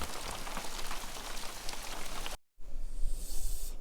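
Steady rain patters densely on surfaces outdoors in December, a close hiss of many drops that breaks off briefly and then resumes.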